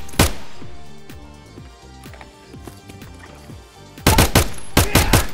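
Gunfire in Escape from Tarkov inside a factory: a single loud shot opens, followed by scattered quieter echoing reports and clatter, then a rapid close burst of several loud shots at the end.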